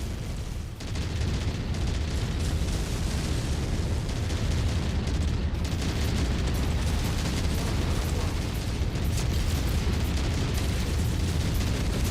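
AC2 autocannon fire and explosions from mechs in MechWarrior 5: Mercenaries, a continuous loud roar of rapid cannon shots and booming blasts with no letup.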